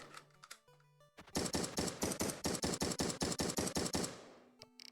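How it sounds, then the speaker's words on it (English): Rapid automatic gunfire sound effects from the indie video game Gooober Acres, a long burst of about fifteen evenly spaced loud shots, preceded by short electronic game tones and followed by a brief click. "gun sound effects"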